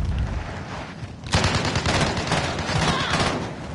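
Dense automatic gunfire erupts in the Call of Duty Warzone battle royale game, a sustained rattling fusillade that starts abruptly and continues loudly for a couple of seconds.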